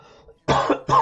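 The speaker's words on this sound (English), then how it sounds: "got the coughing out of me." Two close, loud coughs from a man, the second following a short pause, after a faint low murmur.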